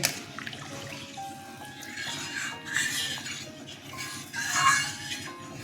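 Water poured into a pot of katla fish rezala curry, a running, splashing stream with rising bubbly surges, close and moderately loud, no voices.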